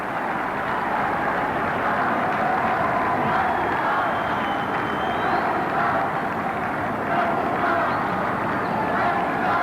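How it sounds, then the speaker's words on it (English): A large stadium crowd gives a sustained ovation at Wembley during a youth cup final, a dense far-off roar of cheering and clapping that holds steady throughout, with a commentator's voice faintly mixed in. "he's getting a tremendous ovation from the crowd here"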